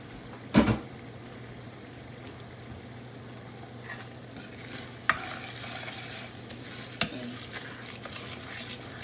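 Coconut milk mixture with salt, MSG and sugar being stirred and sautéed in a pan for Lao num mee ka tee, a steady close sizzle with a few sharp clacks of the utensil against the pan.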